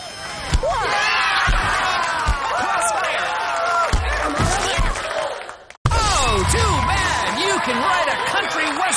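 An outlaw volleyball crowd cheers for a player about to serve, a loud, steady roar with whoops, claps and bouncing thuds, briefly cut off before resuming, with voices and an announcer mixed in.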